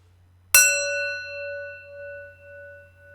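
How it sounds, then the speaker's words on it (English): A single small bell is struck once near the start, giving a bright metallic ding whose clear tone rings on and slowly fades over the next few seconds, alone against a faint low hum. "That little ding is to warm up the bell."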